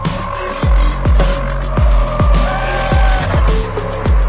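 A Nio ET5 Touring electric car is driven hard through a corner, with loud, close repeated bursts of tire and motor noise pulsing roughly every half second.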